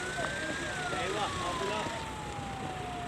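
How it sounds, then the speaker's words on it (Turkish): An ambulance siren wails in a long, slowly falling tone as it tries to get through traffic on the closed D100 highway in Düzce, heard steadily over constant road and crowd noise. "Evet ambulans gelmeye çalışıyor."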